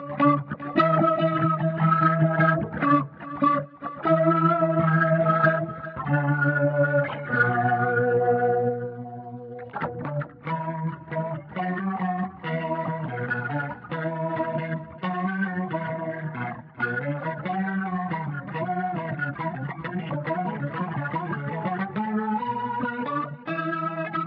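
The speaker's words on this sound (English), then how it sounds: "synth lead, okay." A guitar runs through the synth lead preset on a Boss GX-10 multi-effect, and its processed, chorused notes play phrases and bends over a steady loud level, with no voices.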